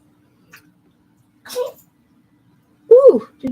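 A small Chihuahua and Jack Russell Terrier mix dog gives a short, sharp sneeze in a quiet room, followed a moment later by a brief human voice.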